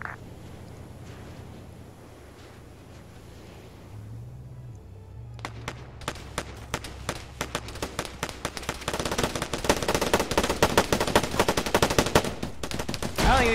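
Gunfire crackles in a military video game, starting as sparse distant shots and building into dense, rapid automatic bursts that grow louder and more continuous toward the end, with low engine-like rumble beneath.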